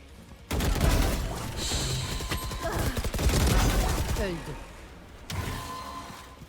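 Rapid gunfire bursts from a first-person shooter match in Valorant, loud and dense with sharp repeated shots, with a short pause before firing resumes near the end.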